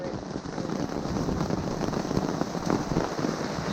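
Steady rain pours down during a thunderstorm at a wilderness campsite, a dense, continuous patter on surfaces that stays fairly loud and even throughout, with no clear thunder or talking.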